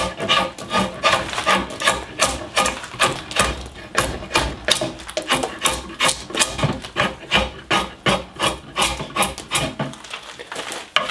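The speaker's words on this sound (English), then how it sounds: "Now draw knives are especially effective in removing wood quickly and efficiently and shaping curved surfaces" A drawknife shaves a wooden workpiece in steady, repeated pulls, each stroke a loud rasping scrape close by, alone with no talk.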